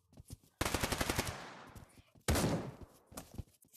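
Rapid automatic gunfire in the VR shooter Pavlov VR, two loud bursts of rattling shots with a few single shots before and after, close and dominant.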